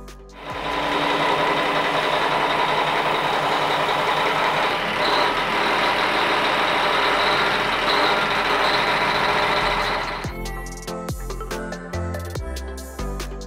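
A running engine driving the water-jet propulsion of an RNLI lifeboat in an engine room gives a loud, steady mechanical drone for about ten seconds, then cuts to quieter, uneven clattering and other sounds.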